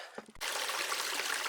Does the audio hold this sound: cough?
no